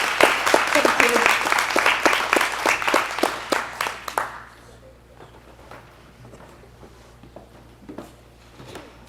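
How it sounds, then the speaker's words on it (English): A live audience applauds two District 5 ballot candidates at a civic breakfast event, a burst of close, brisk clapping that fades out after about four seconds and leaves a quiet room with faint stray sounds. "Let's give these two candidates for District 5 a round of applause."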